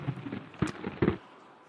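Bubbles forming in a reactor, heard through a stethoscope, give two or three muffled, booming pops in quick succession, then fall silent.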